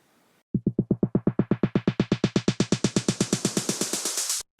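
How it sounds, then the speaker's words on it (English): An accelerating snare roll with a rising hiss of noise swelling beneath it, the hits quickening and brightening until it cuts off abruptly. "we're going to add some noise to our snare roll"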